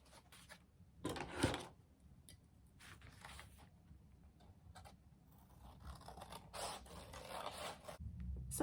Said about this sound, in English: get your scissors out because now you're going to cut on the black line all the way around